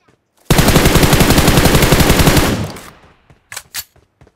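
Gunfire in PUBG Mobile, one long, loud burst of rapid automatic fire lasting about two seconds, trailing off, then a couple of brief single shots.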